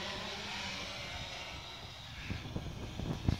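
A DJI F450 quadcopter drone descends for a test landing, its rotors a steady whirring drone at moderate distance, followed toward the end by a few thumps and bumps as it comes down.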